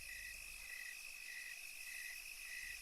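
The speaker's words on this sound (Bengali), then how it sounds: "আবারও সেই পথ, সেই ঝিঝি পোকা" Cartoon crickets chirp along a path at night in a Bengali horror animation, a faint, steady trill repeating in even pulses with nothing else heard.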